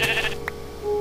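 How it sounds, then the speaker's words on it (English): A sheep bleats in the Minecraft video game, giving one short, clear bleat followed by a faint, brief tone as the sound fades. "Don't kill the sheep."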